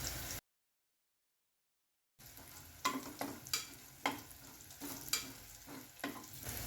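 Whole spices sautéing in hot oil in a pan for matar paneer pulao, a steady soft sizzle with repeated crackling pops, heard close after a brief gap of silence.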